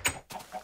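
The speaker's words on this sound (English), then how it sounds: "Oh, God, chicken, you scare me." A chicken in the Minecraft video game gives a few short, faint clucks in quick succession, heard alone without talk.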